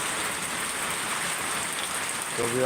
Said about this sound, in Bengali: এখন বৃষ্টি পড়া শুরু হয়েছে